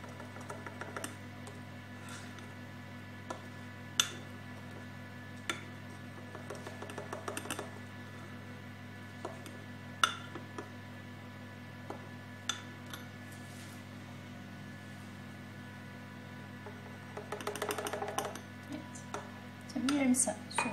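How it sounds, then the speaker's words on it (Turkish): A spoon stirs a flour-free, baking-powder-free cake sauce mixture with half a cup of milk in a bowl for a soaked cake, giving sparse light clinks and taps against the bowl over a steady low hum, growing busier toward the end. "Sütle bunu karıştırıyorum."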